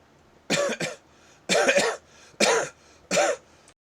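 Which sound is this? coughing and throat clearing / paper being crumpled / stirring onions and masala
coughing and throat clearing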